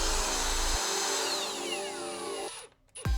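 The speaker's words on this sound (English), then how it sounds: "I'm just screwing into the bracing that's behind the casing here" A power drill drives a screw through a window casing into the wooden bracing behind it, whirring steadily and loudly, then stopping with a brief pause and a final short burst.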